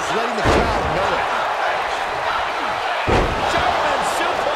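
A wrestler is slammed onto the mat by a German suplex during a pro wrestling match, landing as two heavy thuds amid constant crowd noise and excited commentary.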